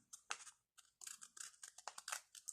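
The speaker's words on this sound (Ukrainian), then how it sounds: "виріжемо ось так по лінії, яку ми промалювали" Scissors snip through paper along a traced line for a fish-shaped craft cutout, a close, crisp run of irregular cutting bursts with brief pauses between strokes, and no voices.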